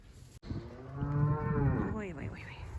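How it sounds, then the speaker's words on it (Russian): A newborn calf or cow on a snowy, cold family farm gives one long, loud, close moo that rises and wavers at the end, heard alone without talk. "Будем надеяться, что и корова из нее получится такая же, как моя Маня."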